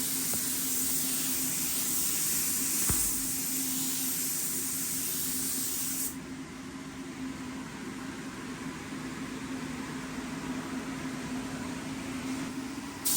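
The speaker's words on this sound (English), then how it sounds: "I'm spraying from a little bit further back, just sort of dusting it on" Steady hiss of a spray gun misting paint onto emulated glass flake, continuous and close, easing slightly partway through before carrying on evenly.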